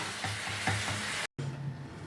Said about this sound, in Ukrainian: Все, смажимо, поки не висмажимо